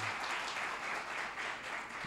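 A church congregation applauds during a service, a dense steady wash of clapping from many hands that blends into a continuous roar, heard from a distance and fairly soft, with no voices rising above it.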